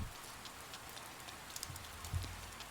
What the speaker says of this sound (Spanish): Como llueve, odio la lluvia.